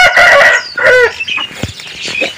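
An Aseel rooster crows loudly and up close, its drawn-out calls broken by short clucks and scuffling, with no talk over it.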